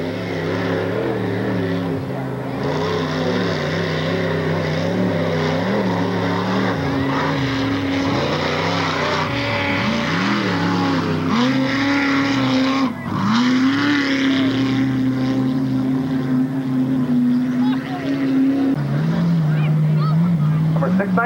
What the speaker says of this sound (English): Number 619, Ed Schultz, going by.